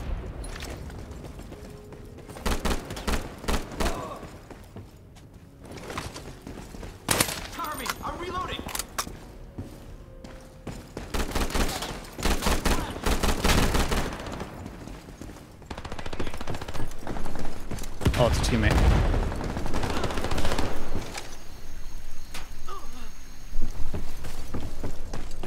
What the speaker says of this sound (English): I just hear bullets everywhere